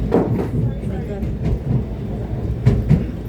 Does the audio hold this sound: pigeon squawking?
no